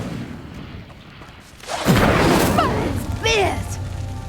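A fire spell cast in the Hogwarts Legacy video game bursts in with a loud whooshing roar partway through, followed by crackling flames and a second flaring swell near the end.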